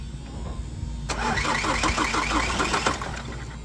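A Ford car engine cranks and catches after a moment, then runs at a rough, busy idle, loud and close with no talk over it.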